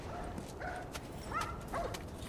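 A dog barks several times in The Last of Us, short, fairly faint yelps spaced about half a second apart over a low background.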